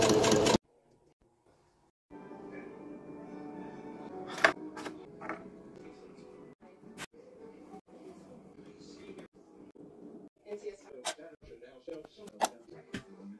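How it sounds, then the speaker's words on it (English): A sewing machine stitches a fold of fabric from a tank top being made into a waistcoat, with a close mechanical whir running steadily after a brief pause and interrupted by clicks and handling noises, and speech heard in places. "Going to sew the fold together."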